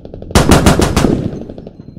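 A loud close burst of rapid automatic machine gun fire in a World War II era video game battle at Narva, roughly six sharp shots in quick succession followed by a fading echo.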